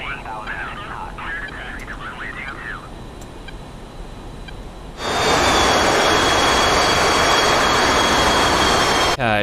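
An F-22 Raptor jet in a flight game taxis toward the runway at a military base in eastern Poland, its engine rising from a low rumble to a loud, steady roar halfway through, with a voice talking early on.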